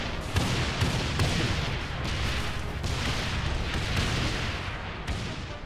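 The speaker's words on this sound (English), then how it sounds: "Man, I can't see shit with all the explosion." Explosions from the video game Saints Row IV boom one after another in dense, rumbling bursts, with gunfire-like cracks layered over a continuous roar of in-game chaos.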